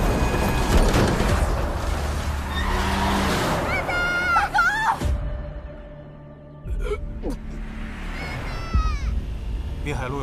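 Tyres screech in a dramatic car crash scene from a crime action film, a loud sustained squeal over roaring engine noise and dense action soundtrack, cutting off abruptly midway before the noise resumes.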